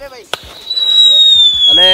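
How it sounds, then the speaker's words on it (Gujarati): Diwali firecrackers set off outdoors in open countryside: a single sharp, close bang followed by a long, high whistling tone as voices talk before and after. "ફટાકડા ફોડવાની ખરેખર વગડામાં બહુ મજા આવે"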